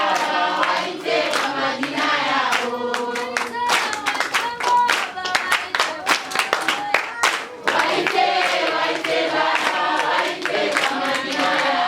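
A church congregation claps their hands for Jesus in a rhythmic burst of sharp, overlapping claps, loud and close, with singing or voices running underneath.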